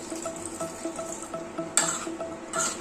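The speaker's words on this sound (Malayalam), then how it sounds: "വിനാഗിരി കൂടെ ചേർത്ത് ഒന്ന് ഇളക്കി കൊടുക്കാം" A spoon stirs vinegar into a nutmeg pickle in a pan, making a steady soft sizzle with rhythmic scraping and occasional metallic clinks, close by with no talking.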